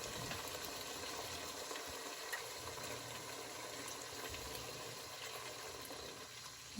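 Water pours into pork adobo in a cooking pot, a faint, continuous splashing gurgle for several seconds with a low background hum.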